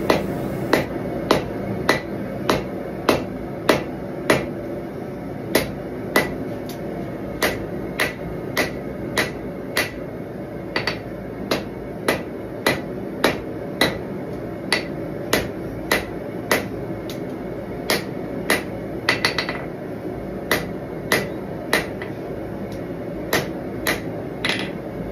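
A small cross peen hammer strikes a knife blade being forged, about one sharp ringing blow per second, close and steady for the whole stretch with no talk.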